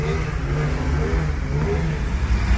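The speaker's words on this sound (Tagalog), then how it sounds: "Ayan, sobrang traffic." A Honda Civic's engine hums and rumbles continuously in dense stop-and-go traffic, a close, even mid-low drone that holds steady throughout.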